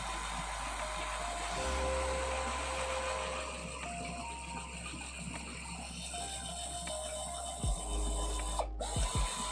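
Long screws driven into an RC truck kit, a steady mechanical whir of a powered driver running continuously at close range, with brief pauses and small clicks near the end.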